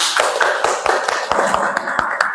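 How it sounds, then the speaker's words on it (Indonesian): Students in a classroom clap together in a steady, rhythmic pattern of sharp, evenly spaced hand claps, close and fairly loud, with no talking. "Beri tepuk tangan."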